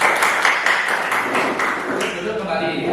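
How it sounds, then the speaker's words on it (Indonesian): Students in a classroom clap hands together in a brief burst of applause, fairly even and moderately loud, fading over a few seconds with a voice speaking over it. "Oke, tepuk tangan buat Anda."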